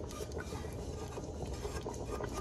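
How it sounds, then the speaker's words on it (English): A spoon stirs a small amount of roux in a pot for New Orleans red beans and rice, making a soft, continuous scraping and swishing sound that stays faint and close throughout. "And we'll give that a stir."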